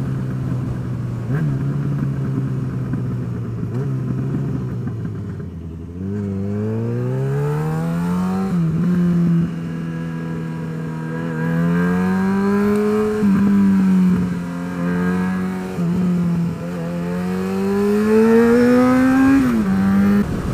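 A motorcycle ridden after winter storage on dry roads, its engine droning steadily close by, with rising and falling revs through gear changes and a climbing pitch toward the end.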